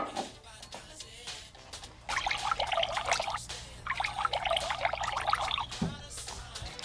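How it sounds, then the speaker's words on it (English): Water poured into a drinking glass, two distinct trickling pours each lasting a couple of seconds, close and clear over a low steady hum, with no voice. "Pour some water into 2 identical glasses."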